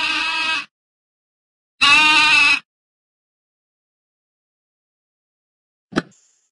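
Two loud, wavering sheep bleats, each under a second long and separated by silence, followed later by a single sharp click.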